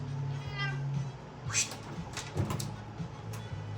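A cat meows a couple of times, fairly faint, over a low steady hum with some background noise.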